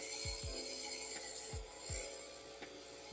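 A turning tool scrapes steadily against a wooden rolling pin spinning on a lathe, with a constant whirring hum and a few soft rasping thumps as a high spot is blended.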